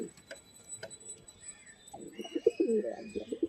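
Pigeons for sale coo in low, throaty rolling calls that swell in the second half, close and moderately loud, with scattered light clicks and faint chirps earlier.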